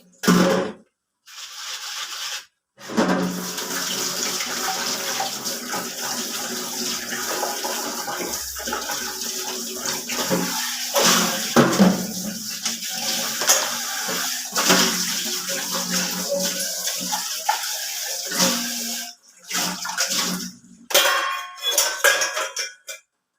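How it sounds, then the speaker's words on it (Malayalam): Tea dishes being washed under running water, a steady splashing stream with intermittent clinks of pots and vessels, close and fairly loud, broken by a few short pauses. "ചായ എടുത്ത പാത്രമൊക്കെ ഒന്ന് കഴുകി വയ്ക്കാനായിട്ട് പോയേ"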